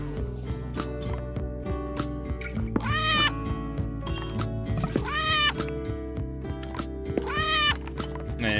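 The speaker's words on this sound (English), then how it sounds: "Cat don't want to move either." A cartoon-like cat meows three times in the puzzle video game Arranger, each meow spaced a couple of seconds apart over looping background music and clip-clop game sound effects.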